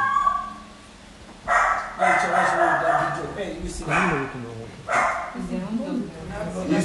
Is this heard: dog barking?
yes